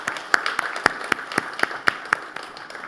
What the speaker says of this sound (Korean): 우리 다시 한번 박수로 격려하도록 하겠습니다.